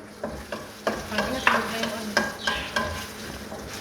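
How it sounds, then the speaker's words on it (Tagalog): Vegetables for pakbet stir and sizzle in a frying pan, with repeated scraping stirs over a steady close frying hiss and no talking. "Lulutuin na niya yung gulay, pakbet na."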